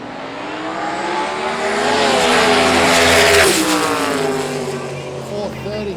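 A turbocharged drag racing car launches hard down the strip at a street drag race, its engine roaring loud and steady, swelling to a peak and then fading slightly as it pulls away.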